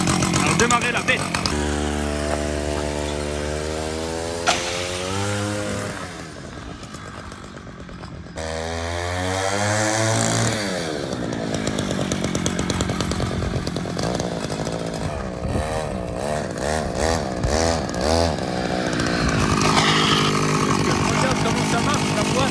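A gas-powered scooter engine is pulled into life and then runs, revving up and down in a raspy, two-stroke-like buzz with rising and falling pitch, close and loud, while people talk over it.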